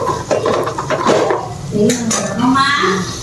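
A spice mixture being stirred in a metal cooking pot, close and loud, with repeated clinks and scrapes of a utensil over a light sizzle, while a voice talks intermittently.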